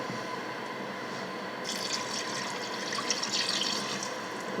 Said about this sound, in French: Et je vais remettre de l'eau.